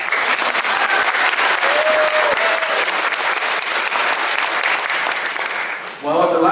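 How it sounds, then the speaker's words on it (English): Audience applause for Helen at a community gathering in The Villages, a dense, sustained wash of many hands clapping at steady loudness for about six seconds before fading at the end. "big round of applause for Helen"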